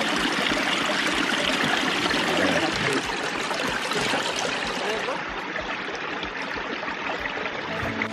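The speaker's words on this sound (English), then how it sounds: "There's the spring coming straight out of the mountain." Spring water gushes straight out of a Montana mountainside in a steady, full rushing flow, close and continuous, with no break for the whole stretch.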